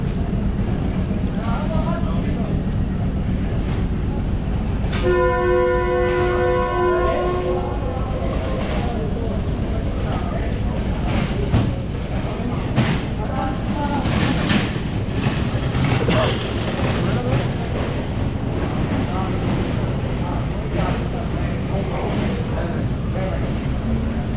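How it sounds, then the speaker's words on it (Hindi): Train whistle on the 130DN Thal Express, a mixed rake of old German coaches and CNR carriages, sounds as a loud sustained blast, then the train begins rolling with a steady rumble and clatter that continues under talk. "दूसरी विसल भी हो गई और ट्रेन ने मूव करना शुरू कर दिया है।"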